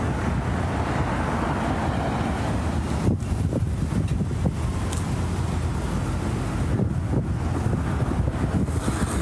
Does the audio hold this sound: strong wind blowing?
yes